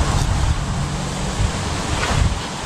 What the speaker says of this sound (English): And I'm sorry about the wind noise.